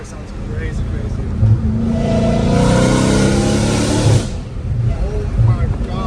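A Dodge Challenger Hellcat Redeye with catless exhaust pipes revs up hard and roars loudly for a few seconds, then drops back to a rumbling idle, with voices faintly underneath.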